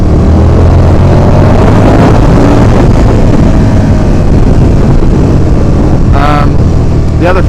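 A motorcycle rides along Norwich roads after a chain change, its engine a loud continuous drone mixed with heavy wind rush, and a brief rising tone near the end.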